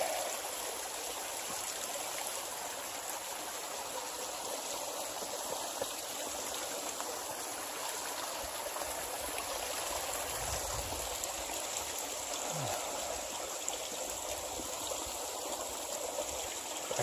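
A creek flows with a steady, even rush and trickle of water that carries on unchanged throughout at moderate loudness, with no voices.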